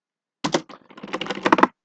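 Rapid clicking keystrokes on a computer keyboard, about a dozen quick taps in a short burst including presses of the Tab key, close and crisp, with no speech.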